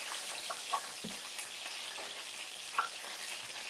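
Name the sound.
vegan banana blossom fish frying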